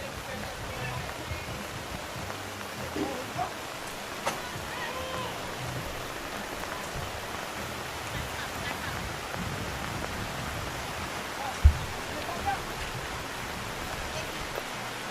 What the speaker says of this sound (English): And a lot more rain.